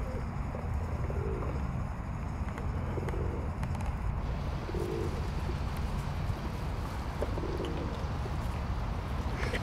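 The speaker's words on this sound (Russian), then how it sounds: "И сейчас сюда слетелась стая голубей." A flock of pigeons gathers nearby outdoors, their soft low cooing running steadily under a continuous broadband outdoor rumble, with no clear individual calls standing out.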